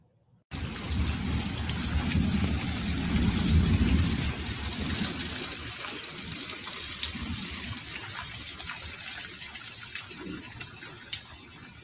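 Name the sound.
heavy rain and thunderstorm during a Chicago flash flood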